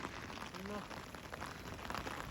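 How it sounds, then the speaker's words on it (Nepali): Heavy rain with hail pours down during a storm, a steady, dense hiss of drops pattering on surfaces throughout, with faint voices murmuring underneath. "अब पानी परिरहेछ यस्तो डेन्जर असिना यत्रो परेर"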